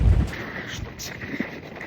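Wind gusts roar and rumble against the microphone on a cold, windy morning run outdoors, a steady, close buffeting with brief swells throughout.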